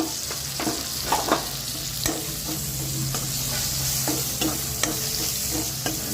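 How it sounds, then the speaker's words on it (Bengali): Chopped tomatoes fry in a pan over ginger while a spoon stirs them, a steady close sizzle broken by repeated scraping clicks of the utensil, with no voices. "টমেটোটা খুব ভালোভাবে ভাজা হয়ে গেছে"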